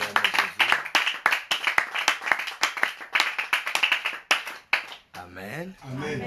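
A church congregation claps together in quick rhythmic applause, dense and close, then the claps stop and a voice speaks over a brief tail.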